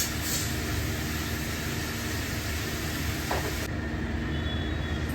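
Water splashed into a hot pan of eggs and taro gives a steady, loud, continuous sizzle that holds without letup from start to finish.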